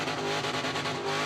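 A late model Holden Commodore does a burnout at Sydney Dragway, its engine held hard against the rev limiter in a rapid, stuttering drone with tyre noise, loud and close, with no talking.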